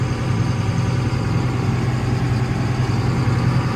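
A grain cart's engine runs steady and loud while unloading corn into a semi at harvest, a constant low idle-like rumble with vibration and no voices.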